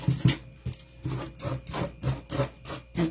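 Rough P80 grit sandpaper rubbed along the very edge of a craft piece in quick back-and-forth strokes, a close, dry rasping repeated about ten times.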